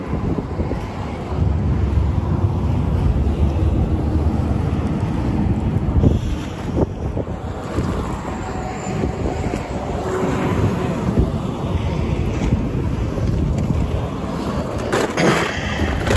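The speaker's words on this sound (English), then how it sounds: "Windy day today." Strong, steady wind roars and buffets a microphone for the whole stretch, with low rumbling gusts and no voices.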